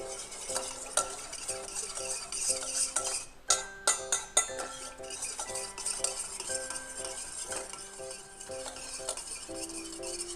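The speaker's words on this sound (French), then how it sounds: "On prend bien soin de mélanger le tout." Homemade sage and bergamot deodorant ingredients are stirred in a small container, with a spoon scraping and clinking against the sides in quick, irregular strokes, close up and with no talking.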